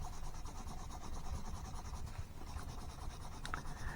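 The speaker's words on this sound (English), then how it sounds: "Let me just get rid of these pencil lines." An eraser rubs pencil lines off a drawing of a flag on paper, a quiet steady scrubbing friction sound close to the microphone, ending in a couple of small scrapes.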